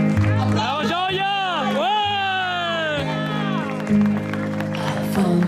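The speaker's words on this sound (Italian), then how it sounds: "L'applauso inizia così" Audience applause and cheering at a Christmas concert with an orchestra, a steady crowd wash under sustained sung vocals and music throughout.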